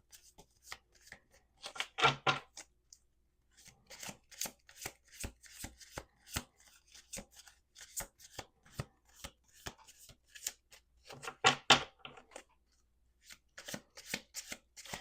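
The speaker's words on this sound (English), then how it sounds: "We're going to do 2 more shuffles." Quick, crisp riffle shuffles of a deck of cards, several bursts separated by short pauses, close and clear.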